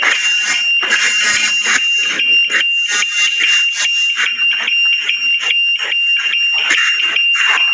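An automatic scooter's DIY anti-theft alarm, built from a turn-signal flasher, blares a steady, loud electronic siren-like warble up close, repeating without pause and with no voices.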